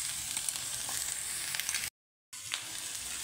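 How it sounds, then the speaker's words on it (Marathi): Okra sizzling and frying in a pan with garlic and green chili paste, a steady close crackle with occasional stirring scrapes, briefly cut to silence partway before the frying resumes. "तर हे आता छान असं परतवून घेऊ"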